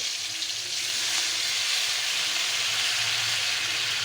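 Fish broth boils in a pot during provincial Filipino home cooking, with a close, steady hiss of bubbling and sizzling that continues without a break, and no talking.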